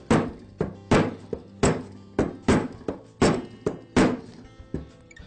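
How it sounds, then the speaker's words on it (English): A rubber shop mallet taps a two-stroke brush cutter engine part into place, giving about ten dull, close thunks in a fairly even rhythm, each one short and clear against a quiet background. "I'll give it a couple of taps with the rubber shop mallet."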